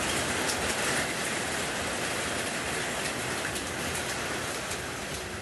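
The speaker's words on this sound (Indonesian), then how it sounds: "hujan disertai dengan butiran es berukuran kerikil jatuh di teras" Pebble-sized hail and rain falling onto a house terrace in a village, a steady dense hiss of drops hitting a hard surface, constant and fairly quiet with no talk.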